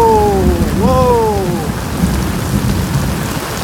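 Heavy rain pours in Tai Po, a dense continuous roar with a low rumble of thunder underneath, while high gliding whistles sweep through near the start.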